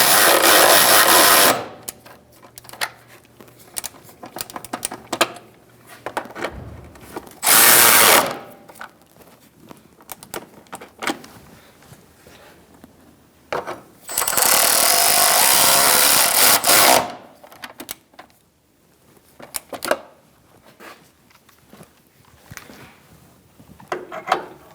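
Power tool snugging the front lower control arm bolts on a 2014-2018 Subaru Forester, loud whirring bursts of a few seconds each, separated by quieter clanks and handling noise.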